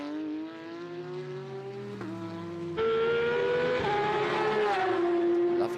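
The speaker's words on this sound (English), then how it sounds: "Lovely sound there of the flat 6 of the Porsche there." A Porsche flat-six race car howls at the Estoril circuit during a winter series race. The engine's tone climbs and shifts through gear changes, loud and sustained, with the sound growing as the car comes closer.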